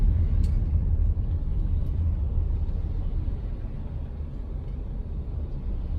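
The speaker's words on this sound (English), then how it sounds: "So across the road, the traffic is quite a lot of cars just coming through." Busy road traffic across the street near a BP fuel station, with cars passing by as a continuous low, steady rumble at moderate distance, with no horns or voices.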